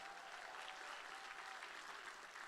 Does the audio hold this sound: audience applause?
yes